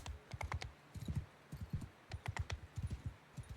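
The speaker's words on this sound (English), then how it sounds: "from the smugglers, I did manage to steal a horse" A horse walks in the game Bannerlord, its hooves giving a close, steady clip-clop rhythm of soft regular beats with short gaps and no talk.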